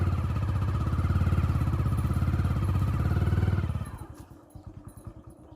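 Motorcycle engine running steadily and loud in a forest beside mustard fields, with buffaloes nearby, then dropping to a rougher, quieter idle-like putter for the last couple of seconds.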